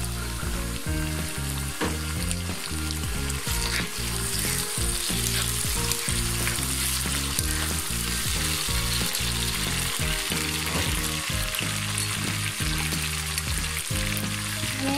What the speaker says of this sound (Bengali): ওই টমেটোটা দিয়ে দিচ্ছি।